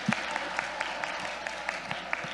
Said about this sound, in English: So let's first off give a round of applause to Sister Samia for honorable mention.